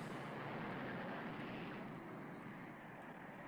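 An airplane in an old sci-fi movie, mocked as a toy plane, gives a steady broadband engine roar that fades slightly over a few seconds, with no talk over it.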